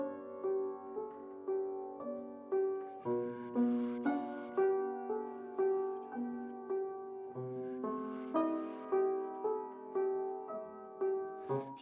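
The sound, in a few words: piano played with the sustain pedal held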